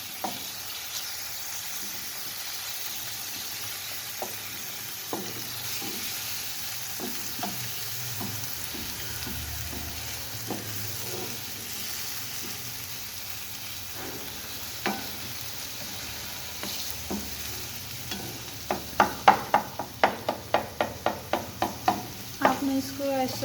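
Cheese omelette mixture is roasted and stirred in a pan over a low flame, giving a steady soft sizzle with scattered scraping taps that quicken into a rapid run of spatula knocks near the end, close by.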